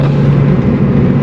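A BMW's exhaust roars loudly and close, a dense, steady low rumble that fills the whole short moment with no voices over it.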